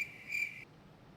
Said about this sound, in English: the crickets are back and the ducks